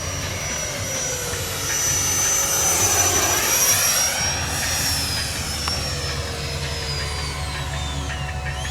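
An FMS Rafale 64mm electric ducted-fan RC jet roars steadily as it flies past, its high whine rising and shifting in pitch as it swoops near and then pulls away.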